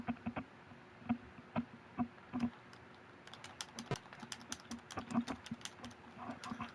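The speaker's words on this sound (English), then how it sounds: "oh, you gotta use the keyboard for this" Keys clacking on a computer keyboard, a run of scattered taps that grows busier and denser partway through, close and fairly quiet with no talking.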